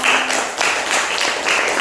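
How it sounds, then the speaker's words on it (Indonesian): Children in a classroom clap for a classmate after a tongue-twister recital, with a short burst of applause in quick, uneven waves lasting under two seconds. "tepuk tangan untuk Anda"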